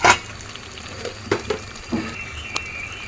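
Coriander being stirred into a pot of gongura chicken curry, a few soft scraping clinks of a spoon against the pan spaced across a quiet kitchen background, with a light sizzle underneath.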